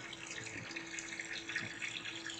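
Water runs steadily from a tap, a constant soft splashing hiss with no voices.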